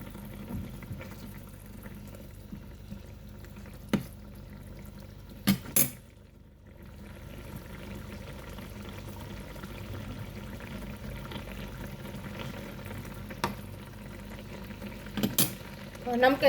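Fish curry broth with papaya bubbling in a pot, a low steady simmer with occasional clinks of a utensil against the pot.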